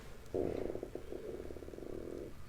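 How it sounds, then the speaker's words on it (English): A person's stomach growls loudly: a drawn-out gurgling rumble with a pulsing, croak-like texture, lasting about two seconds in an otherwise quiet setting. "stomach just loudly growled"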